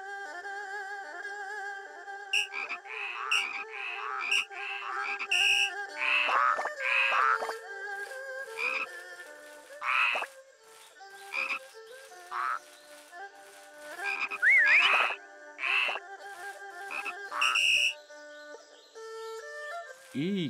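Frogs in the frog race minigame of the video game Shenmue III croak in repeated bursts over a steady musical background, with short gaps between the calls.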